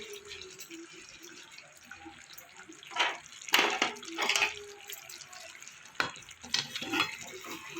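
A pointed gourd curry is stirred in a pan. Several bursts of scraping and clattering stand out over a faint, quiet sizzle, and no one speaks.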